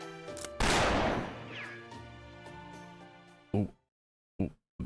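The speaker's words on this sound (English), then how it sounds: "my gunshots should make a hell of a lot of noise here" Gunfire in the Fate/Grand Order video game: a loud burst of shots rings out and decays slowly, followed by a few short, sharp reports after silent gaps, amid game music.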